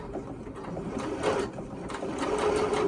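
A sewing machine stitches a knit neck binding at a slow, steady pace, its continuous mechanical whir close and moderately loud, with slight swells in intensity and no talking.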